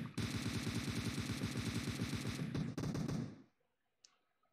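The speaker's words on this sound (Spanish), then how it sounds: "El Lord Paco que sigue disparando" Sustained automatic gunfire from a PUBG Mobile esports league match: a fast, steady rattle of shots for about three seconds, loud and close, then a cut to near silence with one faint click.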